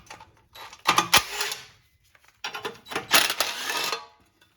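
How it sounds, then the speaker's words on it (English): Short metallic rattles and clinks from a socket and two 12mm bolts being worked off a cover on a Toyota Tundra, coming in two close bursts separated by a brief pause. "Remove the two 12mm head bolts to get this cover off for better access."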